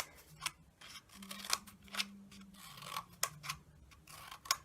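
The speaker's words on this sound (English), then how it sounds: "So once you've cut right the way around your loo roll" Scissors snip into a cardboard toilet roll, cutting long strips for spider legs in a craft project, giving a series of crisp, close, irregular snips with quiet pauses between.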